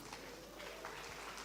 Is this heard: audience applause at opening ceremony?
yes